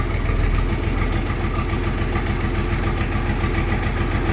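A Kentavr 244SX mini tractor's diesel engine idling at about 700 rpm, with a steady, close, loud rhythmic chugging and no talk.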